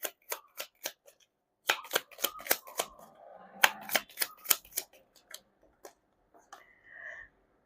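Quick crisp bursts of tarot cards being shuffled, several riffles in uneven rhythm, close up, with soft slides and taps between them.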